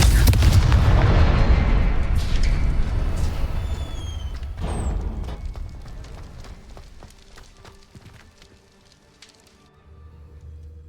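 Explosive spell blasts in the Hogwarts Legacy video game, a loud booming burst with crackling debris that gradually decays over several seconds, followed by fainter scattered impacts and ambient game sounds.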